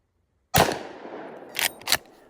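A 45-70 rifle fires a subsonic load in the woods while grouse hunting: one sharp close report that decays into the trees, followed by two quicker, fainter cracks or echoes about a second later.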